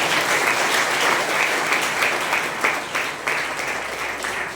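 Audience applause at a Rotary district seminar on youth service, a sustained, fairly loud roar of many people clapping throughout.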